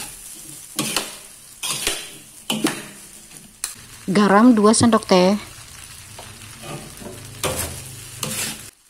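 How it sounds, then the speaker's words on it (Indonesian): Rice vermicelli fried in a wok is stirred with scraping and sizzling strokes in short bursts, while a person talks over the cooking. "Kita aduk kembali, jangan lupa mengaduknya sampai ke dasar wajan."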